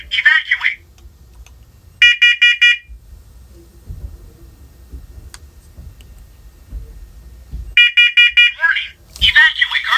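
A hardwired, interlinked smoke alarm sounds in loud bursts of rapid, shrill beeps, with a spoken voice alert between the bursts.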